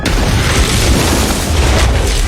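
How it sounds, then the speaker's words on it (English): A huge, loud movie explosion as a man detonates a bomb on himself, a dense roaring blast filling the whole clip with sustained booming rumble and crackle. "Victor pushes the button and blows himself up"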